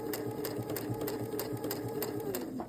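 A sewing machine runs steadily as it stitches a seam through fabric along a drawn line, with a fast, even rhythmic patter continuing close up throughout without any talking.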